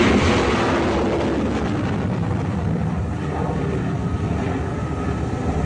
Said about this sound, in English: There goes an F-18 Hornet off the deck of the Nimitz.